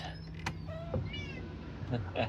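Pet cats meow inside a car on a road trip, several rising and falling cries at close range over a low cabin hum, with a person talking at times.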